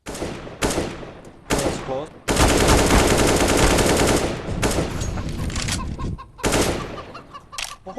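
Gunfire in the Counter-Strike video game: loud bursts of shots, some long sustained automatic volleys, with short gaps between, and a faint voice now and then.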